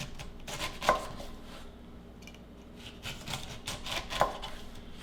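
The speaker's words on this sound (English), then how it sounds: "Having a nice sharp knife is great for this. We're gonna go right down the skin." A sharp knife slicing the skin off a pineapple on a cutting board, with soft rasping strokes and a couple of firmer taps as the blade hits the board, close and fairly quiet.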